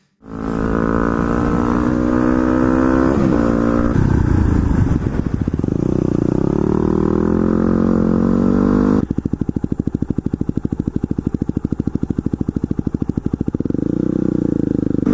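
Loud, close motorcycle engine drone during a ride, rising in pitch as it accelerates before settling into a rough, steady rumble with wind rush.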